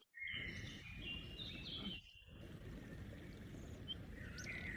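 Faint bird chirps and thin whistling calls drift in from outside during an indoor Pilates workout, scattered lightly over a steady background hiss with a brief pause partway through.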